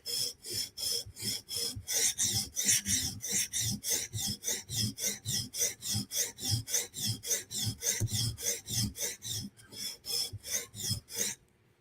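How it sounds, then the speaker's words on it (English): A knife heel is stroked against a stone on a TSProf Kadet sharpener, giving a steady rhythm of about thirty rasping back-and-forth strokes, close and even, with no talking. "I'm just going to lightly sharpen the heel."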